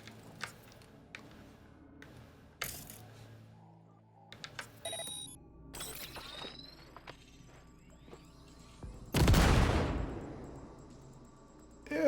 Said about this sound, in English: Now, detonate the grenade.